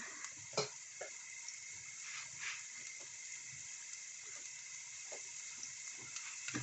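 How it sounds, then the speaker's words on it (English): Onion fries in a pan while making pasta, giving a faint, steady sizzle with a few soft clinks and scrapes scattered through it. "Let that fry down."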